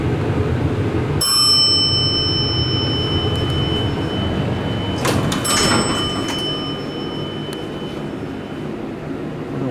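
A hydraulic elevator's chime rings out clearly in a university residence hall, a sustained bright tone over steady fan hum, followed by a short clatter of door movement.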